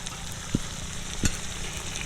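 Ground spices being stirred into a sizzling sauce in a pan for veg manchurian, a steady frying hiss with two soft spoon scrapes, close and alone.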